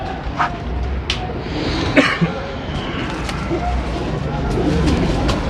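Teddy pigeons cooing on a rooftop, soft low coos and throaty calls close by, mixed with scattered short bird chirps, light background murmur and a voice or cough now and then.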